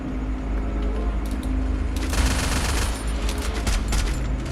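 MP5 submachine gun fire in a ranked shooter video game, a loud continuous rattle of rapid shots that thickens midway, with game noise underneath and a little talk.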